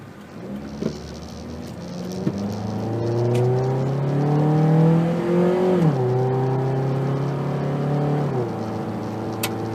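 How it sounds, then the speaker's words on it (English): A 1994 Saturn SL2 sedan engine hums steadily while driving on a highway, its pitch rising and dipping with speed changes, accompanied by road noise from the tires. "it's a lot quieter now with these tires, especially on the highway. She just purrs"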